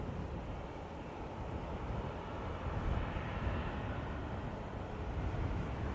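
Delta airliner landing on runway 10 left at Dublin Airport in a gusty crosswind, heard as a steady loud roar of jet engines and rushing air that stays broad and unbroken throughout.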